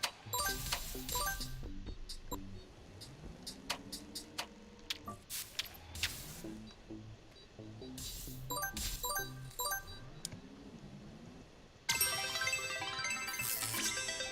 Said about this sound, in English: We hear the notifications of Windows